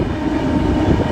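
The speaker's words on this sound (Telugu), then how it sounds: "ఇక్కడ నుంచి అయితే చూడండి మీకు ఒక ట్రైన్ కూడా క్రాస్ అవుతుంది" A train passes near Yadagirigutta, a broad continuous rumble with a low rolling drone, steady and fairly loud for a brief moment.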